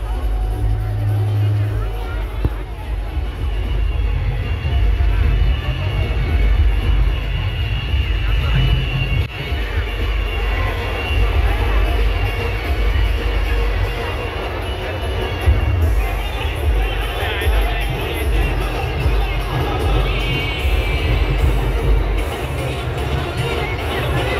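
A large, dense crowd fills a Bhim Jayanti celebration on Nashik Road with continuous loud hubbub and overlapping voices. A low, rumbling background noise persists throughout.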